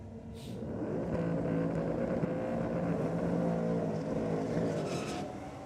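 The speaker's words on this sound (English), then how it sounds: "A little sing of the supercharger." A supercharged drag racing car, a VS Commodore lined up against a Raptor at Sydney Dragway, holds a steady loud engine drone for several seconds with a sustained whining tone and no talking.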